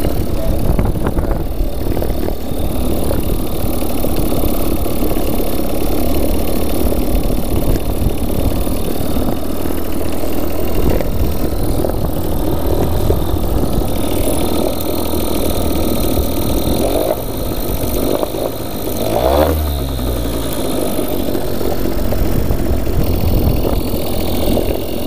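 Toyama outboard boat motor on a fishing kayak, struggling as if flooding, runs with a steady rough idle, then dips and briefly revs. It is loud and close throughout, with a voice talking over it.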